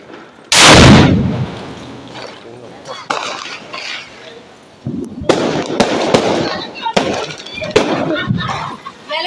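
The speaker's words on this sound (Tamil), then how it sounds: "நான் வந்துங்க பெரிய வெடி வச்சிருக்கேன்." A big firecracker goes off with a single loud, sharp blast close by, followed by scattered crackles and thumps while people talk and exclaim around it.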